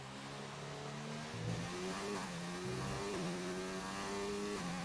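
An F1 car engine on a hot lap at the Spanish Grand Prix in the F1 2019 video game: a steady, loud, high-pitched whine that climbs and drops sharply with repeated gear shifts and continues throughout.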